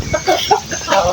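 Chickens and roosters clucking close by among pigeons feeding on rice grain, a run of short, uneven calls across about a second with no talk.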